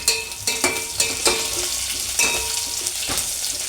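Cut dried red chillies frying in a pan for potato curry, a steady hiss of sizzling oil broken by repeated scraping strokes of a stirring spoon, close and clear with no talk.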